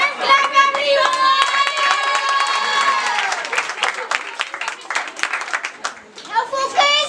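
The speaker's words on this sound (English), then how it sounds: "So guys, let's give a beautiful applause. Clap everyone!" A room of children breaks into lively clapping and applause during a classroom English role-play, with excited kids' voices and an adult speaking over the dense clapping, which tapers off toward the end.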